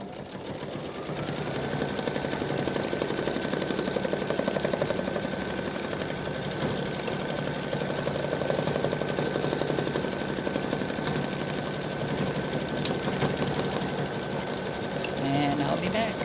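Embroidery machine satin stitching around the leaf of an appliqué pumpkin, a steady, fast mechanical whir and needle chatter running continuously at even loudness, with a faint tone rising near the start.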